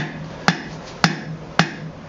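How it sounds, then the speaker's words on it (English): Three crisp rounding hammer blows land on hot steel while tapering a pair of blacksmith tongs, evenly spaced about half a second apart, each with a short metallic ring, close up. "Half hammer blows over far with the rounding hammer."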